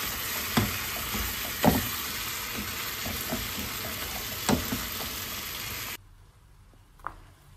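Eggs sizzling and frying in a pan for street-style anda bhurji, a steady loud crackle with a few sharp spatula scrapes and stirs, cutting off abruptly to near silence with one faint clink.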